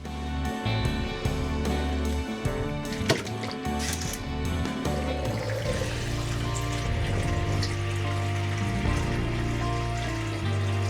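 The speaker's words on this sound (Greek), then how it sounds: "Ένα θα το γεμίσω με νεράκι και πάγο." Water poured into a bowl to make an ice bath while preparing homemade butter. A steady liquid splash runs throughout, partly masked by background music.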